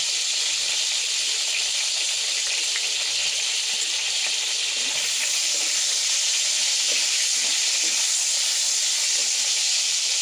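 White cumin seeds, added with whole garam masala, sizzle in hot oil with a loud, continuous hissing crackle that stays steady throughout, with no talk.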